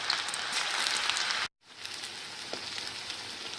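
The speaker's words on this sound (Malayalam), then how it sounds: "ഇനി നമുക്കിത് ഫ്രൈ ചെയ്യാം. ഓരോന്നായി ഇട്ട് വേണം ഫ്രൈ ചെയ്യാൻ. Medium ഫ്ലെയിമിലായിരിക്കണം fry ചെയ്തെടുക്കേണ്ടത്." Cauliflower pieces fry in hot oil over a medium flame, a steady faint sizzle that drops out briefly and then resumes, with no talk.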